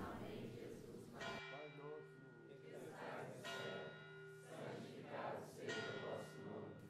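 A chapel church bell rings in repeated strokes, each tone hanging and decaying before the next, fairly close and clear, with a crowd's raised voices swelling underneath at times.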